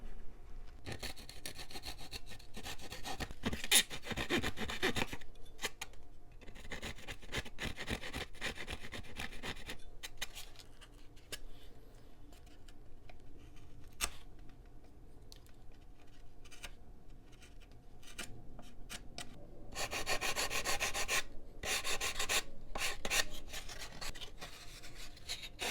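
A blade or sanding tool trims excess balsa wood from an RC plane fuselage with quiet, steady scraping and rasping strokes up close. The strokes come in bursts, with faint rubbing between them and no voices.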